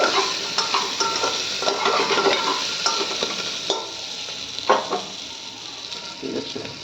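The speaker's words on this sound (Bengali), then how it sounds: "ভালো করে নাড়িয়ে নেব।" Dalia, Bengali style, being stirred as it fries in a pan, with continuous loud sizzling and the scrape of a spoon moving through it in irregular strokes, close up and with no talking.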